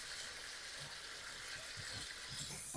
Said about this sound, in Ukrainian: та додаємо гарячу воду